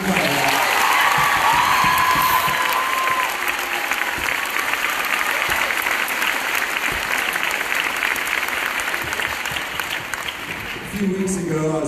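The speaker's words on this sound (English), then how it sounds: "give me a clap" Sustained audience applause filling the room at a school event, loud and dense for about eleven seconds with a faint whistle near the start, fading slightly toward the end.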